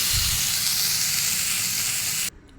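Nigella seeds, black cumin, fry in a generous amount of hot oil in a kitchen pan, a steady bright hiss and sizzle that runs loud and unbroken before cutting off abruptly near the end.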